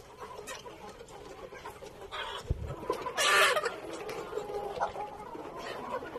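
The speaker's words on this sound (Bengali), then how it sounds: "এখানে আমার প্রায় 156টা অস্ট্রালপ মুরগি আছে, আর মোরগ আছে" Australorp chickens on a farm flock of roughly 156 hens and 162 roosters cluck in scattered, irregular bursts at moderate distance over a soft outdoor background.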